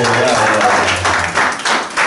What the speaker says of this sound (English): Let's clap our elders today.